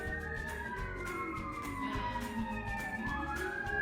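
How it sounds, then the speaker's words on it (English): Several emergency sirens wail at once, rising and falling over low traffic rumble from a busy road in Boise, fairly distant but clearly audible. "You hear the sirens."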